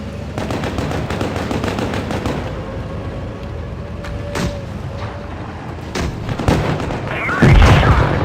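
Tank cannon fire in the World of Tanks video game: a couple of sharp booming shots over a steady engine rumble, with a louder blast near the end, while people talk.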